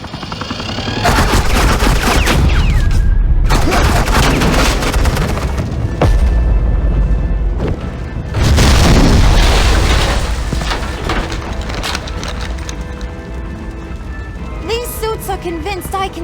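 Loud, sustained bursts of rapid automatic gunfire laying down suppressing fire in a Batman game scene, with heavy booming impacts and a voice speaking briefly amid the shooting.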